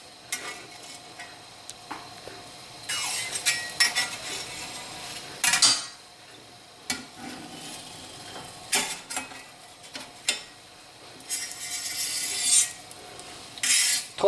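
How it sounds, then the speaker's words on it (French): Flexible metal spatula scraping and lifting the edges of a crêpe from a hot cooking surface, giving bursts of close, bright rasping strokes separated by quieter pauses, with no talking. "Sans tarder, nous décollons les rebords de la crêpe à l'aide d'une spatule métallique souple."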